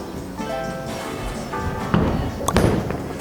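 A Storm Phaze 2 bowling ball striking the pins: a few thuds and a clatter of pins amid noisy bowling-alley ambience, with a voice faintly in the background.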